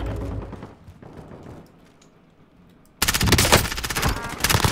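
Machine gun fire in a shooter video game, starting as rapid bursts under a dull background, then breaking into a loud, sustained, dense stream of automatic shots.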